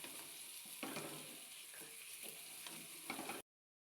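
Green chilies sizzle and crackle as they fry in a pan, with a few sharp scraping stirs breaking through the steady hiss before it cuts off abruptly.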